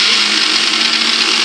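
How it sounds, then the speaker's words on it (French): A kitchen blender runs loud and close, chopping carrots and walnuts for a carrot-walnut cake with a constant high whirring motor and a slight wobble in tone, unbroken by any voices. "J'ai donc mis mes carottes dans mon blender"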